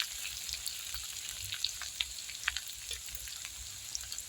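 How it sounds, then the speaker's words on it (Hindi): Garlic and ginger fry in a pan, a steady soft sizzle with small scattered pops and crackles running throughout, close and moderately quiet, no voices. "और इसे भी 1 मिनट के लिए फ्राई कर लूँगी"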